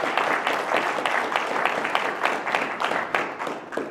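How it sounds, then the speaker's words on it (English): Audience applause at a mosque gathering of children, women and families, steady, dense clapping from a crowd lasting throughout at a fairly even level. "big round of applause to all of them for making this possible"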